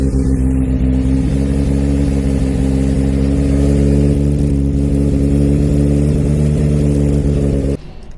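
A Honda CB750 motorcycle engine with a freshly fitted exhaust runs loud and steady while warming up, its rough mid-pitched drone swelling with a few throttle blips before cutting off abruptly near the end.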